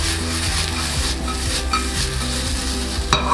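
Sesame seeds and onions fry in a pan with a continuous close sizzle while a utensil stirs and scrapes in a steady rhythm, ending with a brief louder clatter.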